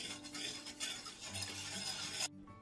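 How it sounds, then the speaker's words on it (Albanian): A spoon stirring sugar into water in a bowl, a soft continuous swirling scrape with light clinks, close and quiet, ending abruptly. "Përzihem pak që sheqeri të tritet te uji"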